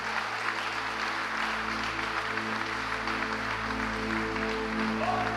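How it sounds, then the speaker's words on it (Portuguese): A church congregation claps together in sustained applause, a dense steady wash of many hands filling the room, with a low hum running underneath. "Quem pode dar um aplauso a Jesus Cristo que vive e reina para sempre?"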